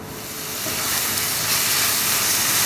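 Steady loud sizzle and hiss as fried paneer and onions go into a hot curd gravy, a broad frying noise that swells in the first second and then holds evenly, with no talking.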